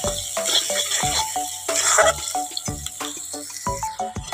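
Ground spices, chili, turmeric, cumin and coriander powder, frying in a pan while a spoon stirs them. There are repeated rhythmic scrapes and knocks over a soft sizzle, close and fairly loud, with no talking.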